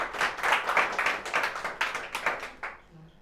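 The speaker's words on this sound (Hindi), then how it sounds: "तो जोरदार तालियां हो जाएं भाई" An audience at a student award ceremony claps in a dense, fairly close burst that fades out near the end, with a few voices in the background.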